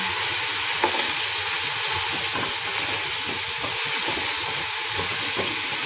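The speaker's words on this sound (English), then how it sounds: "and the paneer and cashew nuts, and just saute." Paneer and cashew nuts with mint and coriander fry in a hot pan for vegetable biryani, producing a loud, continuous hissing sizzle with a few soft stirring clicks and no voices.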